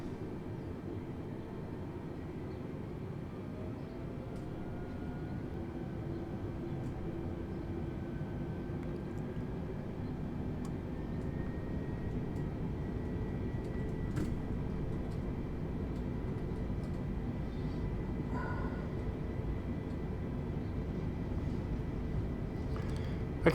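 Airliner engines spooling during a takeoff roll in Microsoft Flight Simulator, a steady low rumble with a faint rising whine, moderately quiet and continuous throughout.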